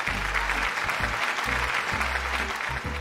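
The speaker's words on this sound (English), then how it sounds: "give Skunk Squirrel applause for that last review" Loud, continuous applause from a crowd, dense clapping sustained across the whole three seconds with a low hum beneath it.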